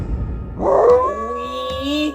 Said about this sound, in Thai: ลูกหมาน่ารักจังเลยอ่ะ